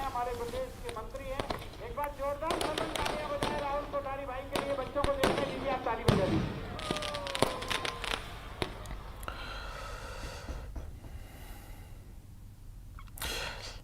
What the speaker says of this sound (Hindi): बुरहानपुर में दशहरा मैदान में आतिशबाजी की गई और फिर करीब 41 फीट ऊंचे रावण का दहन किया गया।